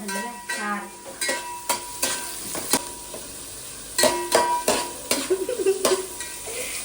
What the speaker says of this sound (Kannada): ಚೆನ್ನಾಗಿ ರೋಸ್ಟ್ ಮಾಡಬೇಕು ಅಲ್ಲೇ.